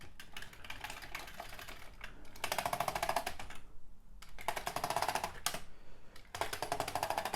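Keys clack on a Commodore 64 keyboard being tested during a repair, in rapid bursts of typing separated by short pauses, close and clear.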